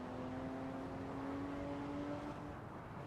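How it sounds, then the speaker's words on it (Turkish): Car engine in the racing game Assetto Corsa, a steady droning hum at a fairly constant pitch, faint and continuous with no voices over it. "Arabanın sesi büyük size az geliyordur."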